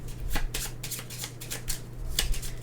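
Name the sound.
shuffling a deck of board game cards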